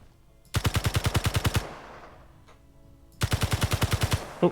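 Two rapid bursts of rifle fire in the video game Space Engineers, each about a second of evenly spaced loud shots, separated by a quieter gap with a single faint shot, no talk.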